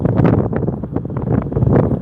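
Steady wind buffets the microphone in rough, gusty rumbles, loud and close, with no voices, at Cypress Park Beach in Tampa.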